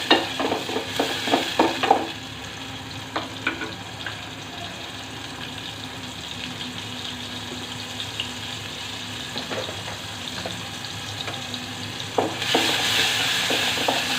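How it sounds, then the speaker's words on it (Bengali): Onions frying in a pan, a steady sizzle running throughout, with a cluster of stirring scrapes at the start, occasional utensil knocks, and a brighter surge of sizzling near the end. "পেঁয়াজটাকে আমি ভালো করে ভেজে নিব।"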